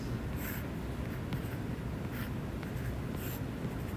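Chalk or marker writing math on a classroom board during a calculus lecture, steady scratchy strokes with brief squeaky bursts, close and continuous with no talking.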